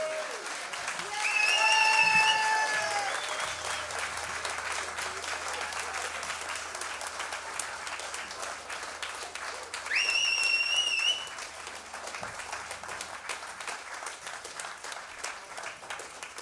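Audience applause at a Norwegian stage show runs for the whole stretch, a continuous patter of clapping that swells near the start and again midway, with faint voices and a brief whistle-like tone above it.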